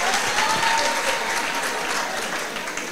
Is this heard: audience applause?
yes